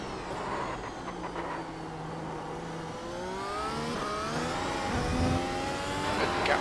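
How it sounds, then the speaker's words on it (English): Porsche 911 GT car engine in the iRacing sim at the Algarve International Circuit, a loud continuous roar with rising and falling rev sweeps as it accelerates and shifts, alone throughout. "of all the GT cars Porsche do sound really great."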